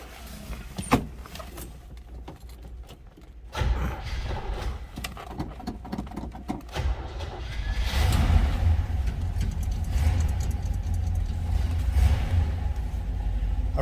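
A 1968 Chevrolet Chevelle Concours two-door hardtop cranks with a few clicks and thumps, then its engine catches and settles into a steady, rough rumbling idle that grows fuller and louder, heard close with no talk.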